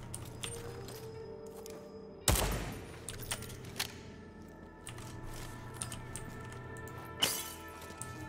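Gunfire aimed at a paint creature in Deathloop, two sharp shot bursts standing out from quiet game ambience with faint clinks between them.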